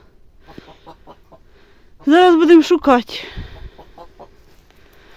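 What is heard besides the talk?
hen clucking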